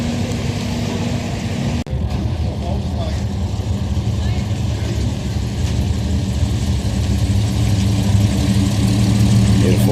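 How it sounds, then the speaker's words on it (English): A Holden HQ car idles steadily at a car meet, a low continuous engine rumble that stays even throughout, with voices and crowd noise mixed in around it. "Beautiful HQ, just ticking along."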